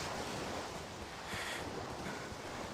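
Soft ocean waves washing in from the Sudeki video game, a faint steady surf with a gentle swell in the middle and no talk.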